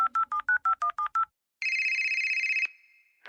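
Keypad tones of a phone number being dialed, seven short evenly spaced beeps, then a long steady ringback tone and a brief final tone, close and clear with no talk.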